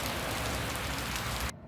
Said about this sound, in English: And as I mentioned on this trip, it's raining.